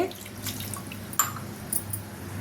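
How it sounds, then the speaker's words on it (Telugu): Water is poured into a tamarind mixture with curry leaves, giving soft splashing and trickling with a few faint drips, heard alone at close range. "పులుపు తగ్గట్టు నీళ్ళు వేసుకోవాలి"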